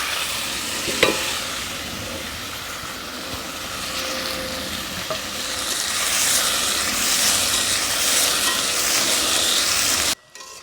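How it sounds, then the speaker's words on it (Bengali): Paneer cubes fry in hot white oil in a kadai, a continuous close sizzle with occasional stirring clinks that builds slightly louder before cutting off abruptly at the end; no one speaks. "আমি পনির ভেজে নেব"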